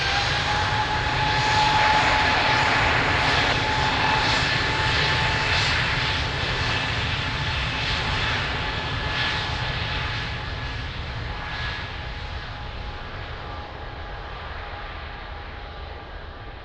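A passenger airplane takes off from runway 02 at Lisbon Airport, its engines roaring loud and steady throughout, with a sustained whine above the deep rumble that eases slightly as it climbs away.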